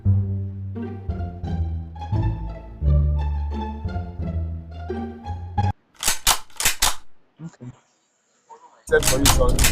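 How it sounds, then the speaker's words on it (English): Several sharp, loud gunshot-like bangs are added as a sound effect, bursting out after a stretch of music, with short gaps and one more blast at the end. "add something like gunshot."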